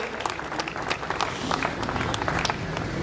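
Audience applause welcoming guests onto the stage at a Minority Day conference in Karachi, a dense steady clapping from a large crowd sustained through the whole stretch.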